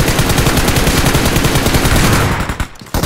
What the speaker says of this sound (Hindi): मैंने उसी हिसाब से पूरी गोलियाँ चला दी